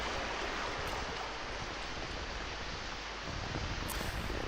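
A rainstorm in the video game Octodad: Dadliest Catch hisses as a dense, steady wash of falling rain, continuous and fairly loud with no voices.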